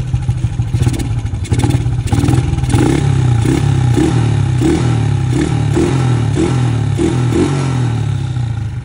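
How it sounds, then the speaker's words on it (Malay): An LC135 v2 motorcycle engine runs loudly up close, a rough rhythmic idle with regular pulsing beats and some mechanical rattle. "Boleh dengar bunyi enjin."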